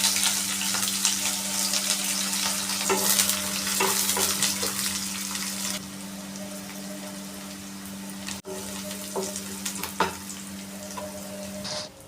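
Salted onion sizzles in a pan for a capsicum dish, a loud, steady hiss with occasional stirring clicks and a constant low hum beneath.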